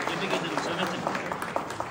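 Brief burst of applause for Samet at a gendarmerie swearing-in ceremony in Iğdır, a dense crowd clapping steadily for about two seconds.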